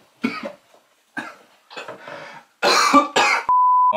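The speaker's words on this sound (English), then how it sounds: "I got a bit of a sore throat and a cough." A person with a sore throat coughs repeatedly, five or six close, harsh bursts in an uneven rhythm, ending in a steady electronic beep tone.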